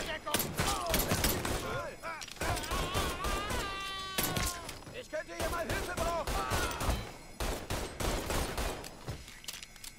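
Pistol shots in Mafia III pop out in quick irregular volleys over busy game sound with music-like tones, loud and close, while someone talks over parts of it.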